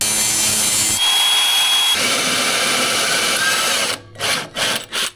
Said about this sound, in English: We're gonna drill the holes for welding it.